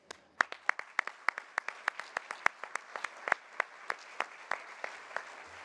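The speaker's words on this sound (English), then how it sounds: "please join me in applauding our audience" At an awards evening, a small group of audience members claps in sparse, distinct, fairly regular claps that sound close and light rather than a full crowd roar.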